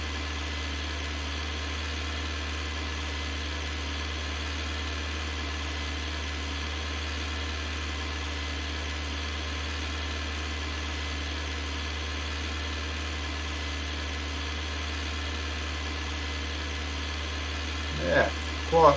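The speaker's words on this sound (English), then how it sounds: "The tractor's slipping a little bit on here as well." A tractor engine idles and runs steadily in a damp grass field, a constant low drone with vibration throughout, with a brief louder burst near the end.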